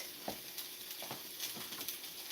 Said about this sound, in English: I like to fry. Like to hear that sizzle.